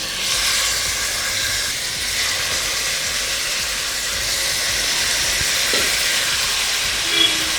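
Chicken pieces dropped into hot ghee for Dindigul biryani give a loud, continuous broadband hiss of sizzling, steady and close with little variation throughout.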